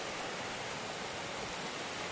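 A small stream runs through a little brook in Wales: a steady, broad hiss of flowing water, faint and even throughout, with no voices.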